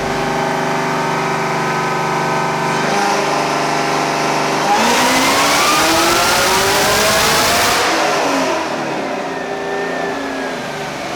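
A supercharged Chevrolet Camaro ZL1 V8 with LMP ported heads and cam, strapped to a hub dyno, holds a steady drone, then revs hard to a loud climbing roar that peaks and falls back, close and continuous with no talk.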